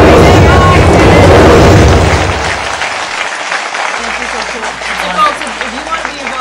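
A rocket launches after a countdown with a loud, close, broadband roaring rush that peaks at the start and then settles into a lower, sustained hiss.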